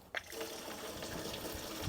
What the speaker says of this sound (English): Final thing we need to do now is just to fill it with water before we put soil in and just do a leak test